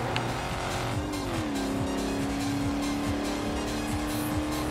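Ford Focus engine in the racing game Ford Racing 2, a steady droning whine whose pitch climbs then holds high, with tire squeal and skidding, loud and continuous without talk.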